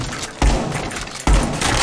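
Two heavy gunshot bursts from pre-firing in Rainbow Six Siege, each a sharp loud thump about a second apart, ringing out over a busy game background.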